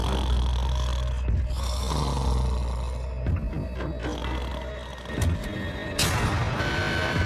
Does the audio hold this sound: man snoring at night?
yes